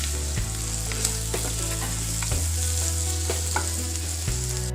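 Finger chips (French fries) sizzle steadily in a hot pan with egg, a constant crackling fry broken by a few scraping stirs, close and fairly loud with no talking.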